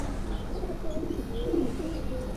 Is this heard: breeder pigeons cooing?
yes